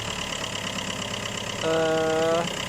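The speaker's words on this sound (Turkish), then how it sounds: "Bir aracı çalıştıralım. O şekilde deneme yapalım." A car engine runs at idle during a battery test, with a steady mid-range hum close by and a brief rise in a tonal whine. Voices are heard faintly in the background.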